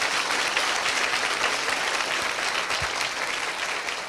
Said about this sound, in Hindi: अरे इतनी मरी सी ताली बजा रहे हैं आप